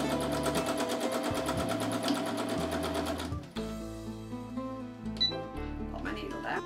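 A sewing machine doing free-motion stippling of hearts, with a fast, steady mechanical chatter of stitching that stops and then resumes in short bursts under a person talking nearby.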